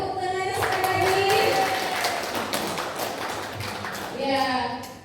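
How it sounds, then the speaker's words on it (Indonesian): Audience at a teachers' deep-learning training session in Pandeglang claps for the presenters, a steady wash of applause filling the room with a few tonal sounds over it, fading slightly then swelling again near the end. "Boleh tepuk tangannya sekali lagi"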